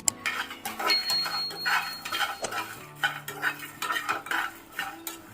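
Sesame seeds roasting in a pan for a cashew and drumstick curry, heard as close metallic scraping and clinking of a spoon stirring against the pan in uneven strokes, with a faint sizzle underneath.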